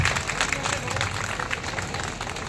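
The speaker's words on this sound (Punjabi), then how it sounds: "ਇਸ ਲਈ ਜ਼ੋਰਦਾਰ ਤਾੜੀਆਂ ਆਪਣੇ ਲਈ ਮਾਰੋ" A crowd of women at a Teej fair claps in front of the stage, a dense, fairly distant patter that runs continuously with voices mixed in.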